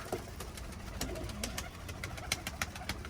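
Pigeons coo softly and repeatedly while bathing in shallow water indoors in an office, against a noisy background, with scattered brief clicks and flutters.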